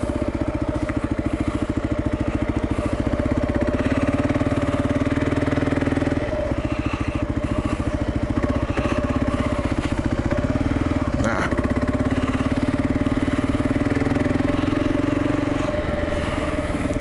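A Kawasaki KLR motorcycle engine runs steadily and loudly while riding off-road, a close, continuous thumping drone with slight rises and dips in revs throughout.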